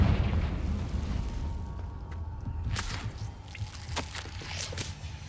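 Confringo fire spell in the video game Hogwarts Legacy, a deep rumbling blast at the start trailing off, followed by sharp whip-like cracks and pops over low ambient rumble.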